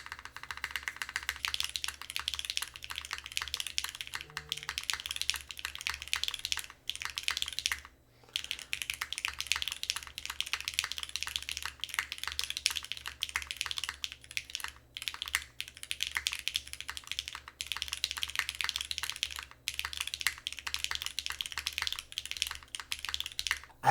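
Steady, close-up typing on a heavy Keycult 1800 mechanical keyboard with a copper bottom case, continuous clacky keystrokes with a brief pause near the eight-second mark, no talking.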